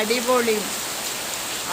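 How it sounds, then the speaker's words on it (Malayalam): Heavy rain pours steadily as a dense, even hiss filling the whole clip, loud and close, broken briefly by a few faint tonal sounds near the start and end. "നല്ല അടിപൊളി മഴ"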